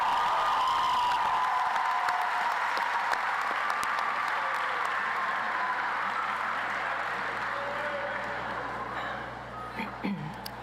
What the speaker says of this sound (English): how about one more round of applause for Cooper?